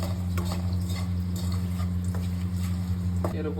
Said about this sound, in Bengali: সবার ফার্স্টে আমি দিয়ে দিচ্ছি এর মধ্যে তেলের মধ্যে শুকনো লঙ্কা, আর দিয়ে দিচ্ছি তেজপাতা